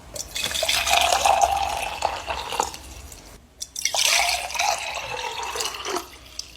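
Water poured into two glasses, one cold and one hot, in two separate close pours, each a bright splashing stream with a short pause between them.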